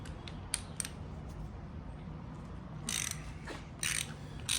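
A breaker bar ratchets on a bolt of a Chrysler two-barrel RB tall-deck intake, metallic clicks in a few short bursts, close and fairly faint, over a low background rumble.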